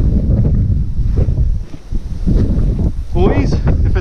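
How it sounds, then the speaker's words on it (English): Heavy wind buffets the microphone in low rumbling gusts while bass fishing outdoors, with a brief lull midway and faint voices underneath. "oh, it's pretty windy, dude"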